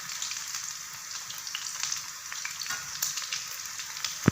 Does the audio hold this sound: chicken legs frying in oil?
yes